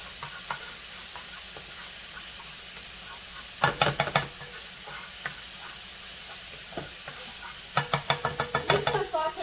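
Bell peppers, sweet peppers, onions, garlic and scallions sauté over medium heat, a soft continuous sizzle broken by two bursts of quick scraping stirs against the pan.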